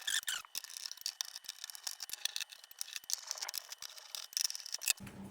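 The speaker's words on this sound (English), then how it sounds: "let's pop off all the screws over here" Screws being removed from an Atari Mega STe computer case, a rapid run of close, bright metallic clicks, scrapes and rattles from a screwdriver and loose screws, continuous and fairly faint, with no talk.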